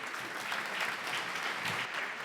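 Steady applause from a conference audience at a Drupal tech event, dense clapping that stays even throughout.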